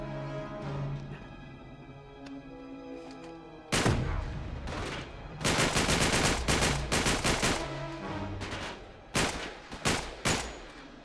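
Gunfire in Uncharted 3: Drake's Deception on PS3, a loud burst of rapid shots followed by further clustered volleys and single cracks over game background sound.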